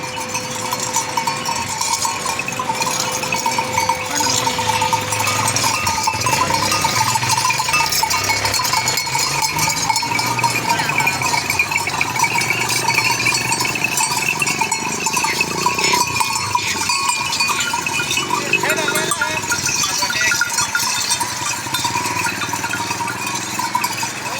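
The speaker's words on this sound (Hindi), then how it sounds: "इसमें गब्बन बकरियां भी हैं, बच्चों वाली भी हैं।" A herd of Multani goats, including does with kids, kept alongside desi rams, with bells clanking continuously and dense bleating throughout, loud and close with no talk.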